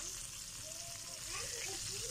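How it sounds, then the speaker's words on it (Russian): Chebureki frying in oil in a pan give off a steady, quiet sizzle and crackle, close and continuous, with faint bubbling pops toward the end. "жарю чебуреки"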